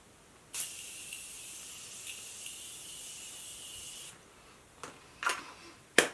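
Setting spray mist hisses from a pump bottle onto a face in a sharp burst lasting several seconds, followed by a few shorter quick spritzes, close and fairly soft in a quiet room.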